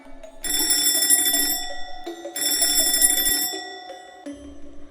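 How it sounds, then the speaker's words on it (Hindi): An alarm clock ringing in a Hindi animated love story, loud bright metallic bursts in two long stretches separated by a short pause, ending with a brief softer ring. "अलार्म बजने पर रजत की आंख खुल जाती है और वो खुद को बिस्तर पर पाता है।"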